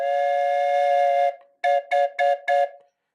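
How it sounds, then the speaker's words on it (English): A heavy-duty metal two-note train whistle sounds close and loud, with one long sustained blast followed by four short, evenly spaced toots. "this is a pretty badass train whistle, right? It's like a heavy duty. It's metal."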